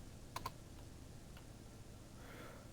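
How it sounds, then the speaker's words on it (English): Faint, sparse taps on a computer keyboard, a couple of quick clicks close together then a few isolated keystrokes over a low steady background hum. "we finish this off by typing in"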